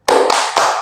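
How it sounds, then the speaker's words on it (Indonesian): A classroom of children doing a rhythmic spirit clap led by their teacher, three loud, sharp unison claps in quick succession, close and clear with no talk over them. "Tepuk semangat."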